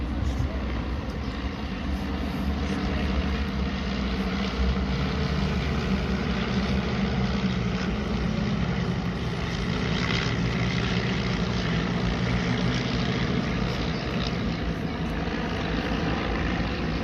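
A propeller training aircraft, a type once sold as a counter-insurgency plane, drones steadily overhead at an air festival, its engine hum continuous and fairly loud over broadband wind-like noise for the whole stretch.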